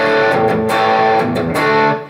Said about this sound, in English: So if you start with a high gain sound like this